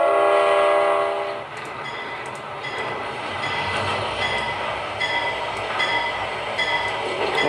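A train in the Trainz: A New Era video game rumbles along with boxcars, a horn blast at the start, then steady rolling rail noise with faint clicks.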